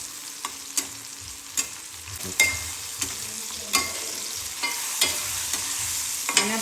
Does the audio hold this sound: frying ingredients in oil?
yes